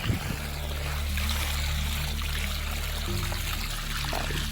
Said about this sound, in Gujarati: હવે પાણી એકદમ સટિંગ જગ્યા પર પડશે જોઈ લો